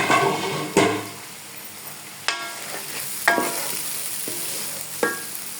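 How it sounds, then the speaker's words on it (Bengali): Khichuri is stirred in a pot over a soft sizzling background, with a spoon scraping and knocking against the metal in several sharp strokes spaced a second or so apart, close and without talk. "খিচুড়িটাও এখন একটু ঢাকনাটা দিয়ে নামিয়ে নাড়িয়ে"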